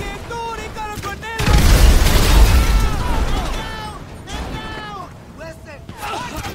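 A grenade blast in GTA V sets off a deep, rumbling boom that swells and then fades over a couple of seconds, loud and close, amid a chaotic game scene with shouting voices before and after.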